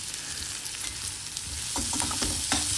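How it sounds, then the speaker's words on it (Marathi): Chopped amaranth stems stir-fried in a hot oil tempering, a steady broadband sizzle with scraping stir strokes growing louder and more rhythmic in the second half, close and alone. "आता हे सगळे चिरलेले देठ ह्या तेलामध्ये आपण टाकले फोडणीमध्ये आणि हे आता छान आपण परतून चांगलं घेणार आहोत"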